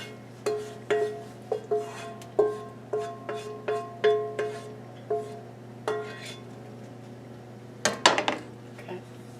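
Spoonfuls of meat filling for a shepherd's pie are dropped into an oiled pan, a series of light clinks and scrapes of a spoon against the pan in an uneven rhythm over a steady low hum, ending with a brief flurry of clatter.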